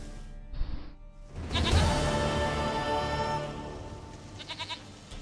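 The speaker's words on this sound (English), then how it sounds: "Goat of mine! Dearest, sweetest goat!" Goat bleating in The Witcher 3: a short faint call, then a louder, sustained, wavering bleat over game ambience, ending in a few quick stuttering bleats.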